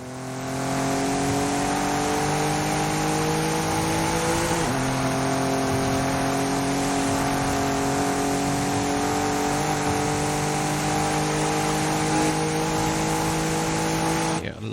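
An Audi racing in a driving video game, its engine droning loud and steady throughout, with the pitch climbing between gear shifts and dropping sharply around the five-second and ten-second marks.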